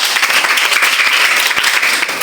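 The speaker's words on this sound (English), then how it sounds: "please, can we give him a round of applause?" An audience applauds during a classroom-style lesson on a Bible parable, a dense steady burst of clapping that fills the short moment without a break.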